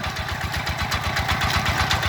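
A small diesel two-wheel walking tractor engine chugs steadily nearby with a regular low thumping pulse and rattly mechanical noise, no voices.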